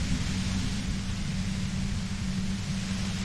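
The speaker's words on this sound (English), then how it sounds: "The violet-white noise becomes even more overwhelming closer to the compressor." Violet-white noise fills the air near a compressor in the video game Disco Elysium, a dense, steady hiss over a heavy low rumble, loud and unchanging throughout with no voices.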